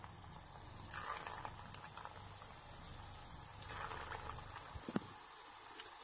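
Chicken kola urundai balls fry in hot oil, a steady close sizzle and bubbling that swells in a few brief louder bursts and keeps going throughout, with no talking.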